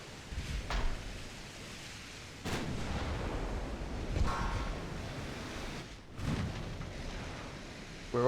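Naval gunfire in the Ultimate Admiral: Dreadnoughts video game: several muffled, distant heavy booms at irregular intervals over a rumbling, surf-like background.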